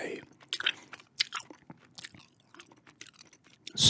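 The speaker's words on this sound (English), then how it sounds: "Doing a gum chewing video games haul video today." Gum chewing close to the mic, a string of moist clicks, smacks and crunches in an irregular rhythm, with a little soft speech now and then.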